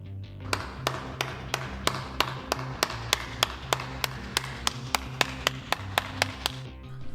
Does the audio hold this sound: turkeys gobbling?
no